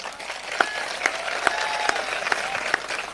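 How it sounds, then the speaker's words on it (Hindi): Audience applause at a comedy show, a steady wash of clapping from a crowd with sharp individual claps standing out, continuous and fairly loud. "इसमें कोई ताली बजाने की बात नहीं थी।"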